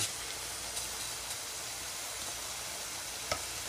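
Food sautéing in a pressure cooker pot gives off a steady, close sizzle with a few soft stirring clicks and no talk.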